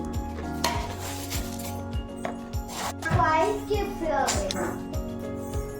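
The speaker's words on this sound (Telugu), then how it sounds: "ఇలా మిక్చర్ అన్నీ వేసి అయితే బాగా మంచి కలపాలి" Puffed rice snack mixture being stirred in a bowl, with dry rustling scrapes and occasional clinks of a utensil against the dish, steady and close, while a voice and other speech run beneath.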